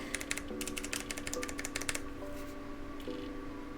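Rapid typing on a mechanical keyboard with MX Clear switches, a quick flurry of crisp clacks and taps that thins out after a couple of seconds, close up and fairly quiet, over a faint background tone.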